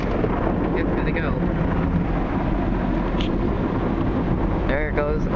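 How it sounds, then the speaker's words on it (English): Tunnel car wash brushes at a Motor City Wash Works express wash, heard from inside the car as a dense, steady rumbling wash of noise with brief squeaky sounds near the end. "There comes some little brushes over there."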